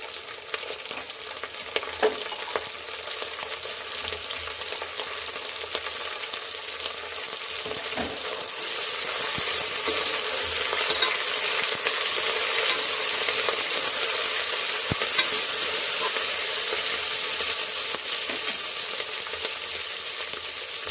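Green chillies frying in hot oil for bendakaya pulusu (okra stew), a steady broad sizzle with occasional scraping stirs, growing slightly louder midway and continuing throughout with no talk.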